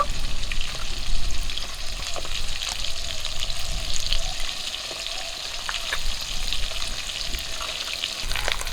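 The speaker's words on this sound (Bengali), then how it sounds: "পেটি দিয়ে আরো বেশি করে তেল বেরোচ্ছে" Pieces of grass carp, including fatty belly cuts, fry in oil in a village kitchen, giving a steady loud close sizzle with faint crackles and no voices.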